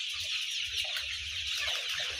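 Hens on a poultry farm give faint, low clucks under a steady background hiss. The sound is quiet and brief.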